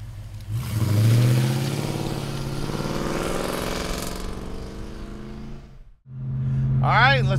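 A 1966 Ford Mustang coupe engine starts loudly and holds a steady revving rumble for several seconds, falls briefly silent, then roars back up near the end.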